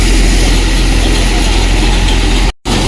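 A diesel tractor engine idles loud and close, a steady low rumble that holds throughout with one brief dropout near the end.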